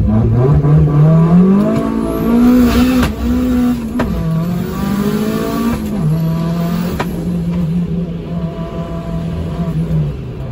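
A turbocharged Hyundai engine pulls hard at the track, its note rising steadily and then holding a strained drone with brief shifts and pops, loud and close throughout.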